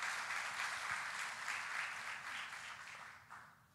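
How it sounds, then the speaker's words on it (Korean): A church audience applauds after a performance at an invited gathering, a broad wash of clapping heard from a distance, quiet and fading slightly toward the end. "한 번 더 박수를 보내주시면 좋겠습니다"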